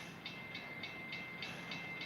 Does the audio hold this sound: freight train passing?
yes